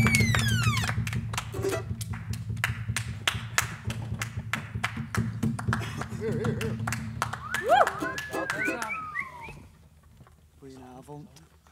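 An audience at a live cabaret show in a theatre breaks into lively applause, with whistles and cheers over the clapping before it thins out and dies away.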